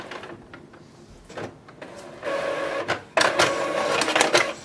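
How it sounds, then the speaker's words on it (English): An Epson EcoTank ET-2803 printer resuming a copy after a paper jam, with clicks and short mechanical whirs and then louder sustained feeding and printing runs, close up. "So it has resumed the copy and we have cleared the error"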